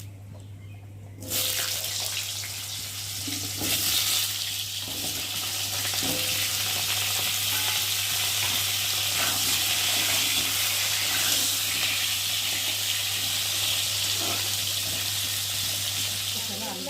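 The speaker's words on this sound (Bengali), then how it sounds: "এখন আমি এই যে কেটে রাখা আলুগুলোকে দিয়ে একটু তেলের মধ্যে ভেজে নেব" Cut potatoes sizzle in hot oil with bay leaf and cumin, a steady loud frying hiss that bursts in after a short quiet start and runs on continuously, with a low electrical hum beneath.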